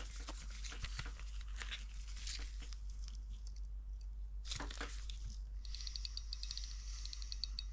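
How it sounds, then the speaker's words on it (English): A repaired fishing reel's ratchet gives bursts of quick mechanical clicking, close up and fairly quiet, with a steady low hum underneath. "It's clicking now."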